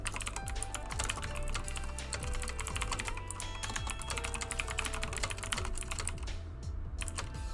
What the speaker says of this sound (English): I'm just typing a reply to someone